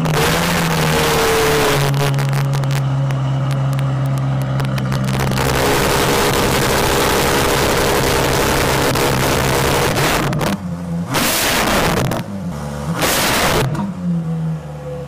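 A Ferrari engine of around 970 horsepower roars loud and close, its pitch sliding at first and then holding a sustained drone, before several sharp rev bursts near the end, with some wind buffeting.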